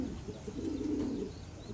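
Thai pigeons cooing in a nesting loft, a low soft throaty coo rising and fading over a couple of seconds, with faint chirps and background hiss.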